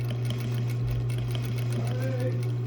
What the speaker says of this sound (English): You're just doing a little top stitch here.